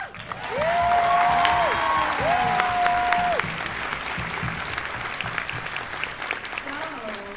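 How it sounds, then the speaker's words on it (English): A panel audience at a fan convention breaks into steady applause, dense clapping that fills the room and slowly thins out, while a voice or tones sound briefly over it at the start. "give a big round of applause for Kat"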